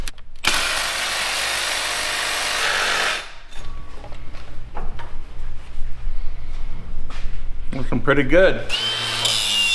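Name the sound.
Sawzall reciprocating saw cutting thick metal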